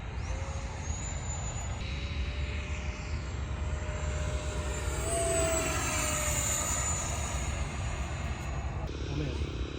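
An FMS F-86 Sabre RC jet with an 80mm electric ducted fan, making its first flight and coming in to land, whines steadily overhead and shifts in pitch as it passes, over outdoor background noise.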